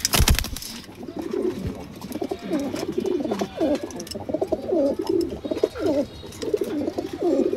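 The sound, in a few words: racing pigeons cooing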